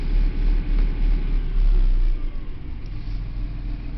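A Massey Ferguson Dyna tractor engine idles down from higher revs, a low rumbling drone close by with uneven throbbing that settles to a lower, steadier hum, with no voices.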